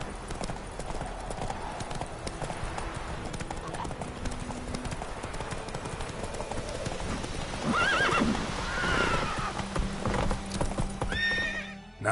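Roach the horse gallops in The Witcher 3 with loud, rapid hoofbeats, then lets out a clear whinny near the end, with faint voices in the background.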